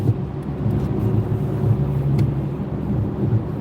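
A big semi-truck rolls past on a busy highway in heavy traffic, a loud, steady low roar of engine and tires that holds through the whole stretch with barely any change.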